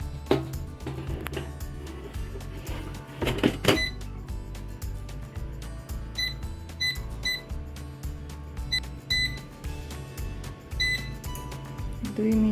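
An air fryer's control panel beeps in a short series of bright electronic tones as a two-minute timer is set while fuchka (puffed pani puri shells) crisp inside, over a steady low hum.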